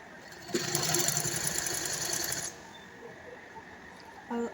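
A sewing machine runs a straight stitch along a folded plazo hem, a loud continuous whirring burst of about two seconds that then stops, leaving quiet room tone and a small click at the end.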